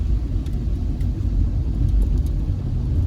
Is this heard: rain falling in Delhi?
no